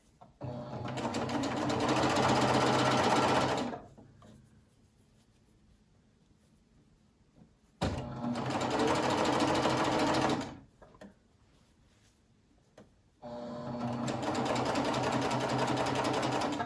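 A twin needle sewing machine stitches a practice piece of t-shirt knit fabric in three separate runs of a few seconds each, a loud close whir with quiet pauses between them.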